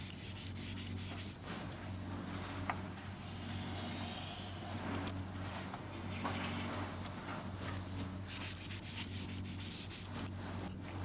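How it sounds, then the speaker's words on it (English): Angle lapping of a semiconductor junction at a very small angle, a steady close rubbing and sanding scrape that runs continuously over a low hum, with brighter abrasive bursts at the start and end. "This is angle lapping."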